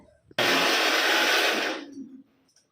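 A kitchen mixer grinds raw green mango and mint into a paste, a loud steady whirring that starts abruptly, runs for about a second and a half, then winds down as the motor slows.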